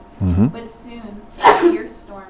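A single sharp sneeze breaks into a calm narrated reading of the Bible story of Jesus and the storm on the lake, with speech before and after it.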